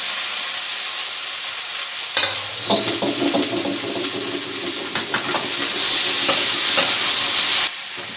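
Okra (bhindi) stir-frying in a pan with red chilli powder and salt, a steady broadband sizzle that swells midway, broken by several scraping stirs and clinks of a spatula against the pan.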